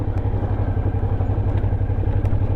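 Suzuki V-Strom motorcycle ridden off-road: a loud, steady engine rumble at close range with a throbbing low pulse and a few faint clicks over the top.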